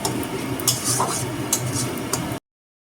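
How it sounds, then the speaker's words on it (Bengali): Ginger-garlic paste is stir-fried in a pan for Bengali fish kalia, with a spatula scraping and clacking over a steady sizzle until it cuts off abruptly. "ভালো করে এই আদা রসুনের কাঁচা গন্ধটা যাওয়া পর্যন্ত একটু কষিয়ে দিতে হবে"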